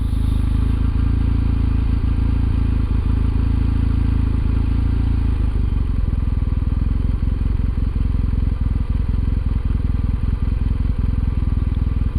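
A Kawasaki motorcycle engine idles close by with a steady, loud low rumble, and its pulsing firing rhythm shifts slightly partway through.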